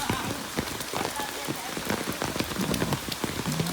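Heavy monsoon rain pours steadily onto surfaces in a flooded Gujarati village neighbourhood, a dense continuous patter with scattered sharper drop hits and faint voices in the background.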